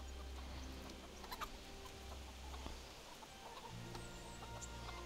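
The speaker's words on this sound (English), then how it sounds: "The chickens are balking again, as they will." Chickens cluck in the game Kingdom Come: Deliverance, with soft, scattered clucks and brief calls over a steady low ambient hum, fairly quiet and without talk.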